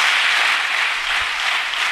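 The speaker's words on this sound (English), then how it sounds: "Continuously clap." Students in an engineering college motivation session clap continuously, a dense, steady wash of applause that holds at an even level from start to finish with no talk over it.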